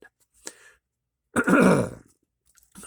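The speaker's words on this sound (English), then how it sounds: "Clear my throat here." A single throat clearing, a short raspy burst close by, set between brief quiet gaps and faint small sounds.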